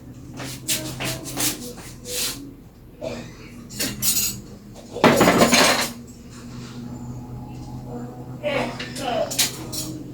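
Homemade calamansi dishwashing liquid being stirred in a container, with scattered clinks and scrapes of a utensil against the vessel, one louder scraping burst in the middle, close and intermittent.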